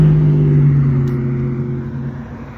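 A car passes close by on a road with a loud engine drone that slowly fades as it moves away, and no one speaks.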